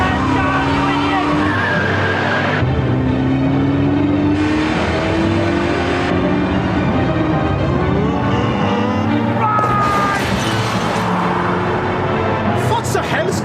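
A car skids and swerves in a 1991 British drama scene, with loud, sustained tire squeal and engine roar that rise and shift over the whole stretch, and sharp bursts near the end.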